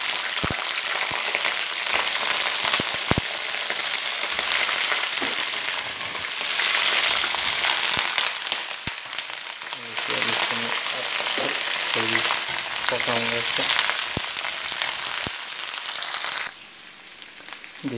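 Cumin and cauliflower frying in hot oil for a dry gobi sabzi, a steady loud sizzle with crackling pops and occasional stirring scrapes throughout, no talk.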